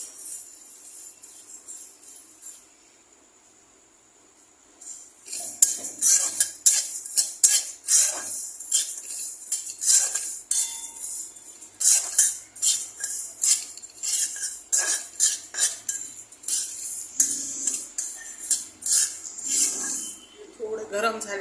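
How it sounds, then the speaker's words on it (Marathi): Sesame seeds are roasted in a kadhai while a metal spoon scrapes and clinks against the pan in quick, irregular bursts, close and bright, following a few quiet seconds at the start. "आता या कढईमध्ये आपण हे 1 वाटी तीळ टाकून घेऊया आणि तीळ आपल्याला भाजून घ्यायचे।"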